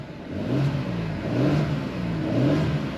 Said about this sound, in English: let's go ahead, guys, and rev this engine up a little bit here, that EcoBoost engine